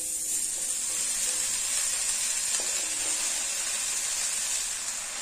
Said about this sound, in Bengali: এই লাউ শাকটা এবার কড়াইতে দিয়ে দিচ্ছি।